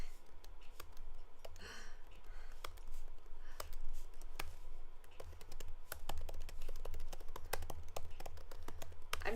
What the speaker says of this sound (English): I'm typing some stuff because it's easier than talking